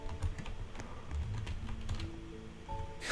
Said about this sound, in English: You guys can hear that keyboard going crazy.